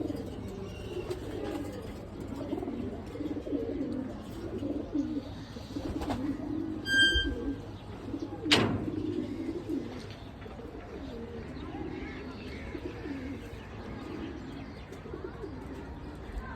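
Pet pigeons coo continuously in a low rolling chorus, joined by a few brief chirps and a sharp click midway; a voice is faintly present in the background.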